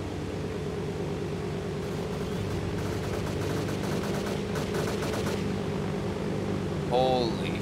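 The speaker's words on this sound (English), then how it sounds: "Oh, he's firing." Bursts of rapid gunfire from the survival video game DayZ, crackling steadily beneath a voice, with a short louder tonal sound near the end.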